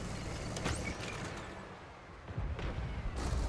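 A tank cannon fires in an online tank battle game featuring the IS-7 heavy tank, a deep booming shot with rumbling aftermath over steady battle ambience.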